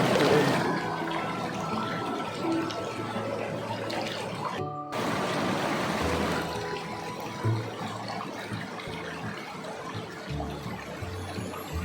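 Creek water flowing steadily while someone wades across it on a rural farm trail in the Philippines, a close, continuous rushing and trickling that goes on throughout, with a brief dropout partway and no clear talk.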